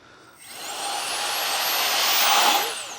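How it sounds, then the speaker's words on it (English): A small air blower gives a rising whoosh as it pushes air through a part of a VEVOR 8 kW generator, holding steady for about two seconds and then tapering off. "Blew some air through there. I put it over there, blew the air back through the other way as well."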